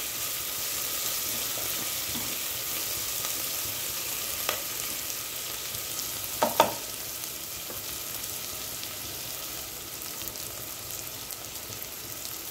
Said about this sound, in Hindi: और ये देखिए प्याज को भी हम भून लेते हैं